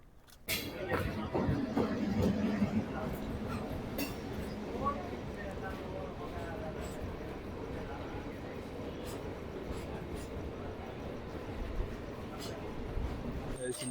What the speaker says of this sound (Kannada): ಇಲ್ಲಿ ಯಾವುದೋ ಟ್ರೈನ್ ಬಂತು, ಫುಲ್ ಖಾಲಿ ಇದೆ ನೋಡಿ